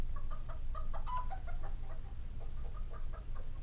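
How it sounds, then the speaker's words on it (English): Several chickens cluck in short, repeated bursts inside a New York apartment, steady and close over a low background rumble, with no talking. "What's that noise? Our chickens, Henny, Penny, and Maxine."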